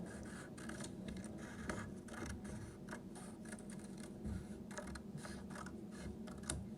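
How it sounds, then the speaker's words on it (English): Sharp scissors snip around the edge of a greeting card in a series of quick, crisp cuts, close and fairly quiet, with a dry scratchy texture. "use a regular pair of good sharp scissors, and you're going to cut about 1/4 of an inch in all the way around"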